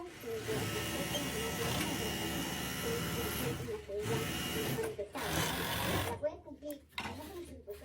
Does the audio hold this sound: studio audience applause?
no